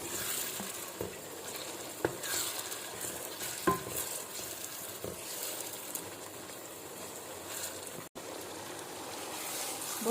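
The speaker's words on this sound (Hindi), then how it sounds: "अब हल्की सी आंच को तेज़ कर लें और इसको बुनाई करते हैं।" Matar keema stir-fried on high heat in a karahi, a continuous sizzle with repeated spatula scrapes and clinks at irregular intervals, steady and fairly close.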